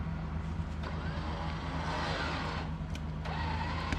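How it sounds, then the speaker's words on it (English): A Ford Explorer being pulled out of a ditch with only rear-wheel drive, its engine running steadily and close by for the whole stretch, with no talking. "Pulling Ford out of a ditch"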